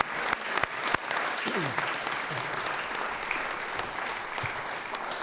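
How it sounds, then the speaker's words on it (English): Applause from an audience at a volunteer recognition award ceremony, a sustained wash of many hands clapping with a few sharper nearby claps at the start, continuing steadily throughout. "Can I get a big round of applause for the sponsors, volunteers, Eastern Florida,"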